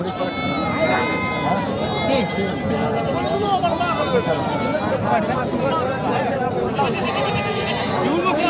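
Young goat kids and lambs bleat repeatedly at the Sangola livestock market, their cries overlapping against constant crowd babble while people talk nearby.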